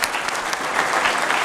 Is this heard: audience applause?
yes